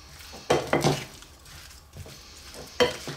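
Heavily spiced beef is mixed with olive oil in a bowl, with a few close, wet clattering scrapes of a utensil against the bowl separated by quieter pauses.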